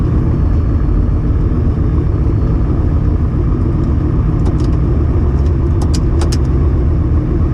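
A car rumbles along a street-style surface with a steady, loud, low engine and road noise throughout, and faint higher ticks near the end.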